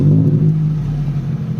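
A Toyota Celica T23 with a 143 hp engine gives a short, loud, deep exhaust rumble close by, a steady throaty drone with no distinct pops standing out.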